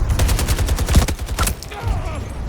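Rapid automatic gunfire from a tank in a video game, a dense close fusillade of repeated shots for about a second and a half, then fading into quieter battle noise.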